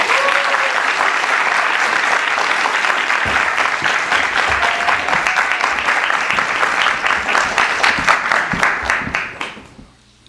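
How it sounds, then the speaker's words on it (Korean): A hall audience at a university student leadership academy lecture applauds to welcome a former party leader as speaker, loud sustained clapping that swells and then quickly dies away at the end. "큰 박수로 모시겠습니다."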